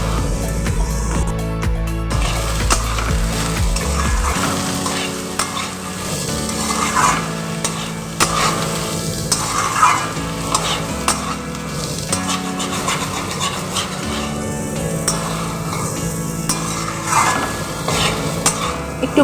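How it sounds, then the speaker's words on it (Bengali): Potatoes sizzling in hot oil in a home kitchen pan, with repeated scraping and stirring of a metal spatula against the pan, loud and close throughout. "ভালো করে ভাজা ভাজা করে নেব আলুটা বেশ ভেজে নিয়েছি"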